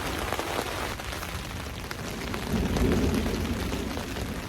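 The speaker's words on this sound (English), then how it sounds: "So the rain subsided a little bit for now" Rain drums steadily on a tent in a thunderstorm, a dense, loud hiss of drops with a low rumble swelling midway, no voices.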